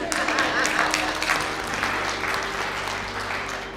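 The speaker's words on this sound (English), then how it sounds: "You guys can clap for that." Audience applause at a motivational talk, a full, even patter of clapping from a sizeable room that starts strong and slowly fades, with a faint steady hum beneath it.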